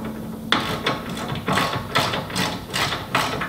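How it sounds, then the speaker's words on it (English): Ratcheting clicks from a 17mm socket ratchet tightening rock slider bolts through the sill of a Land Rover Discovery 2, close and fairly loud, coming in several short bursts of rapid clicks. "We're going to use a 16mm spanner and a 17mm socket."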